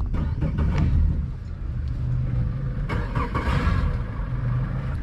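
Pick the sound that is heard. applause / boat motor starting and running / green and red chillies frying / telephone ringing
boat motor starting and running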